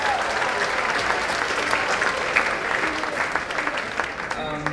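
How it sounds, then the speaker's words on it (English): An audience at a live podcast taping in Los Angeles claps in a sustained, dense round of applause, with a few louder individual claps and a hint of voices near the end. "So you give your guys a round of applause"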